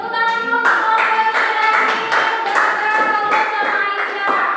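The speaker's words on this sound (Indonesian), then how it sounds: "Oke, tepuk tangan dulu untuk kelompok yang" Classroom applause for a student group, several seconds of dense, lively clapping from many hands, close and continuous.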